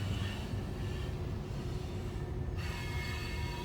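A heavily loaded freight train carrying rock works hard up a hill, giving a steady, loud rolling rumble with thin, sustained metallic wheel squeal running throughout and no pauses.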